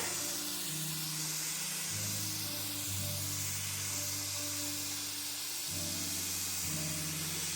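Steady hissing spray of a compressed-air spray gun on a fiberglass camper build runs throughout, with low mechanical hums shifting in pitch underneath; no voices.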